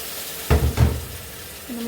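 Pieces of pork for an Angamaly-style pork fry dropped into a hot pan: two quick, close bursts of sizzle and clatter, then fading to a quiet hiss.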